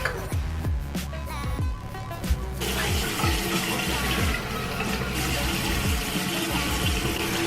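Tap water gushes into a sink while a face is being rinsed, a steady rushing stream with splashes that swells after a few seconds, with faint background music.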